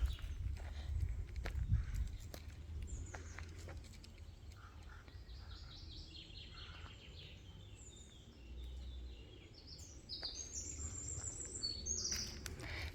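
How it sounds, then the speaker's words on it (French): Birds sing and chirp in a fern-filled forest, their high, scattered calls drifting from a distance over soft rustling and footsteps on the trail. "Donc je vous laisse écouter le bruit des oiseaux."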